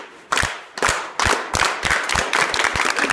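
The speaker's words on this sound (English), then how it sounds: "All right, clap it up." A group clapping in unison, about nine sharp claps that start spaced out and quicken into a faster rhythm, loud and close with a slight room echo.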